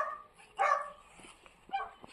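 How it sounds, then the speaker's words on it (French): A neighbour's dog barks twice at a modest distance, two short, separate barks over a quiet background. "c'est le chien du voisin"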